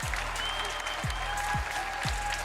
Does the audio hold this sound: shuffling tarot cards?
no